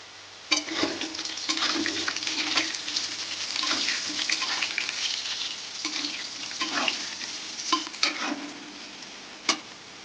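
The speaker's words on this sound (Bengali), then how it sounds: "আলুগুলো ভাজা হয়ে গেছে" Potatoes fry with salt and turmeric in a pan for a fish curry recipe, giving a steady close sizzle broken by scraping stir strokes and a few sharp utensil clicks, with no talking.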